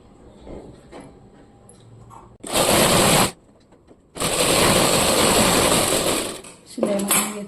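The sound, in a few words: sewing machine stitching a tucked blouse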